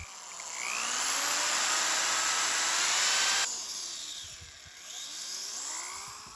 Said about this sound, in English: I'm going to drill some holes.